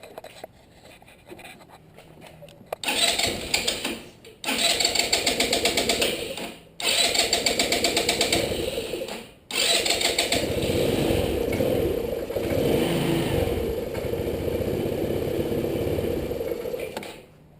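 GY6 Chinese scooter engine, 150 or 50 cc, being cranked after a carburetor install, repeated starter bursts cutting off in short gaps before the engine catches and keeps running with a buzzing, slightly uneven idle, loud and close.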